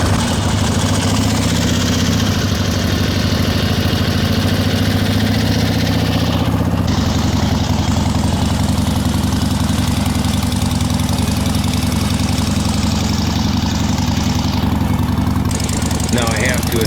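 A vintage Harley-Davidson Iron Head Sportster idles steadily on Route 66, its low, uneven engine rumble close and constant throughout, with wind and road noise over it.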